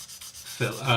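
A sanding sponge rubs over a plastic 1/72 Eduard B-24 model kit: soft scratchy strokes that grow louder and denser partway through, close and alone.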